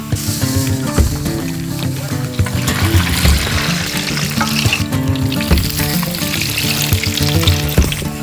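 Pork chicharon with fat and meat deep-frying in hot oil, a loud, dense roar of bubbling and crackling with frequent pops throughout.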